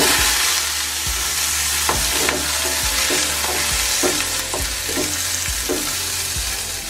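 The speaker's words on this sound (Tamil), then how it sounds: "இதில் ஒரு 10 சின்ன வெங்காயம் போட்டு வதக்கிக்கலாங்க." About ten small onions sautéing in half a spoon of sesame oil: a steady, loud sizzle with rhythmic spatula strikes against the pan roughly every half second, no voices.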